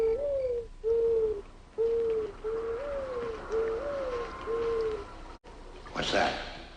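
A human voice imitates an owl: a run of about seven soft, low hoots in an even rhythm, fairly quiet and close, ending in a short breathy rustle.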